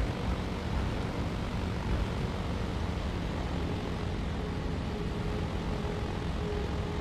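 A propeller airplane in flight, its engine giving a dense, steady drone that fills the whole stretch at an even loudness with no other sounds.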